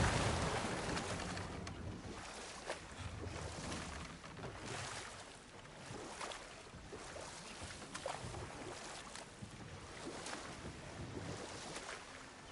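Continuous rushing water from a waterfall in the God of War Ragnarok game, a steady broadband wash with surging pulses, heard fairly distant and fairly quiet, without voices.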